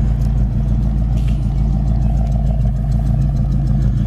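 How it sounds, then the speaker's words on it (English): A 1967 Ford Mustang idles steadily through its dual exhaust, a loud, close, even low rumble with a regular throb and no revving or speech. "Great sound and dual exhaust coming out the back, no smoke."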